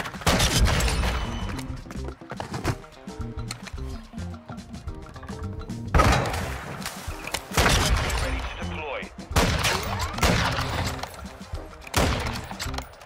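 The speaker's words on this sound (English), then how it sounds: "I literally heard a gunshot from over here." A first-person shooter video game, with an assault rifle converted from a sniper rifle, fires repeated bursts of gunshots, some loud and close, others fainter, spread across the stretch while a player talks over them.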